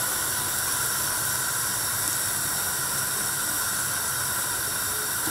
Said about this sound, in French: je vais griller mon fromage halloumi dans une poêle anti-adhésive en le parsemant avec les herbes